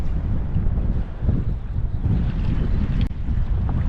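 Strong wind buffets the microphone on a kayak drifting at sea off Northern California during rockfish fishing, a continuous loud roaring rush with faint water sounds beneath.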